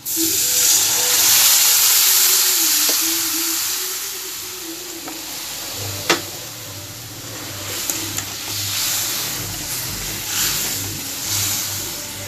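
Water poured into a hot pan for a rohu fish curry, giving a loud broad steaming hiss that slowly fades into a steady bubbling simmer, close by with no talking.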